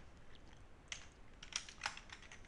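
Soft, faint keystrokes clatter on a computer keyboard as code is typed, a few scattered taps with a cluster of sharper clicks near the end, with no voice.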